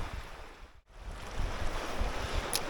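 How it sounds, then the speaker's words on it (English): Steady wind buffets a microphone outdoors on a sandy shore by the water while trout fishing in spring, a continuous rushing roar with gusts and one brief lull, no voices. "A bit windy at the moment."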